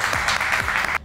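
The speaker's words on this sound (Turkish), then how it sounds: "Haydi Tuna'ya bir moral alkış alalım" A brief burst of steady applause for a contestant in a mussel-eating contest, several people clapping together close by for about a second before it cuts off.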